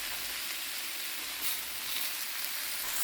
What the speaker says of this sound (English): Give that a quick stir.